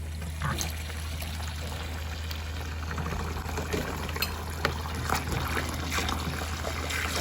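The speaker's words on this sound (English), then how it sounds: "These the yellow lentils. I'll put them in a bowl, and I'm going to wash this." Yellow lentils washed with water in a bowl, a steady close wash of pouring and swirling water with small splashes throughout, no talk.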